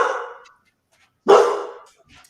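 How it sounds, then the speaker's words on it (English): A dog barks twice, about a second apart, each bark short and fairly close, with quiet pauses between and a faint trailing yip at the end. "The fool is barking at his own reflection."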